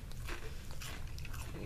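Baked Calbee shrimp chips are bitten and crunched in a few quick, crisp snaps close to the mic. The crunching is fairly quiet and nobody speaks.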